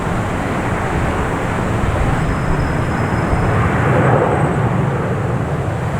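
A United Airlines airliner rumbles at Boston Logan Airport, a steady broad roar from a distance that swells slightly toward the end, with no talking.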